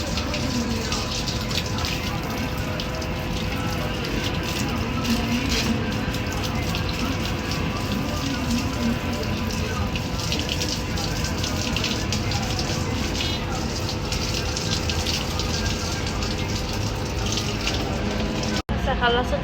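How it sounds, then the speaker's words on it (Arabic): Water is used to wash down a balcony and its windows, with a continuous, fairly loud rush of running and splashing water that holds steady throughout, apart from one brief break near the end. "اغسل البلكونة والشبابيك على السريع"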